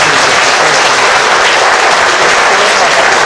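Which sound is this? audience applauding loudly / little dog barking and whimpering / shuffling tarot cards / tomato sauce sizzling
audience applauding loudly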